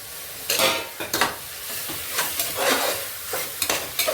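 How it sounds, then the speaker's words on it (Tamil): Onions, coriander and mint leaves sautéing for mutton biryani, with a moist sizzle and several close stirring scrapes in uneven bursts over the frying, no voices. "புதினா இலை எல்லாம் நல்லா வதங்கட்டும்"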